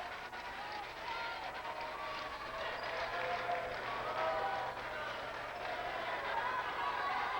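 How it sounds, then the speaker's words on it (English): A crowd at a 1991 Stanford at Hawaii women's volleyball season finale applauds and cheers in a steady, moderately distant wash of clapping that swells slightly, with a commentator talking over it. "And the crowd appreciates the effort"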